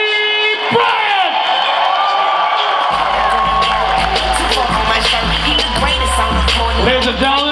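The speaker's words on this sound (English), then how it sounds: "another round of applause for Kobe Bryant" A large forum crowd cheers and applauds Kobe Bryant, loud and continuous, with whoops and shouts rising over dense clapping and a low rumble building after the first few seconds.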